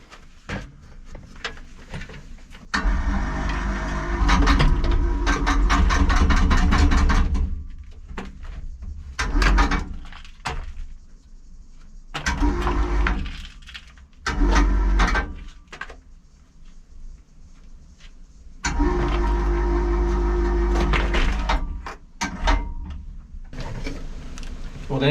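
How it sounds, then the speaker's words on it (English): An electric winch straining to hoist two buckets on a lanyard, its motor whirring loudly in several long runs separated by pauses and clunks, with some talk in between. "The winch won't lift 2 buckets."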